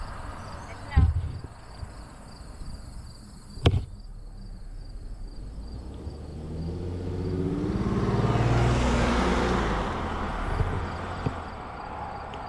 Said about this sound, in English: Got a car coming from behind.